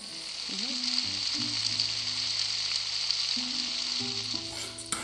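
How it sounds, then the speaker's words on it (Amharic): Minced meat tibs fry in a pan with butter and seasoning, a steady continuous sizzle throughout, close and even, with faint background music underneath. "እንደዚህ አድርጋችሁ መጥበስ ትችላላችሁ ማለት ነው።"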